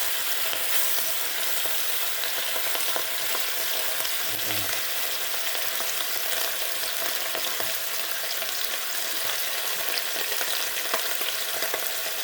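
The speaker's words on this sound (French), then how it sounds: "nous allons rajouter un petit peu d'huile. Ensuite, nous allons mettre nos différents morceaux de viande" Pieces of mutton fry in oil in a pot, a steady loud crackling sizzle throughout, with a brief stirring clatter around the middle and no one talking.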